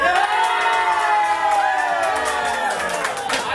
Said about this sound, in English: The crowd had this reaction to something they witnessed in the show.